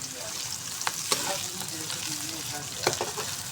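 Onions sizzle and crackle steadily in a hot pan for a chicken and potato curry, with occasional sharp pops and stirring scrapes, close and moderately loud.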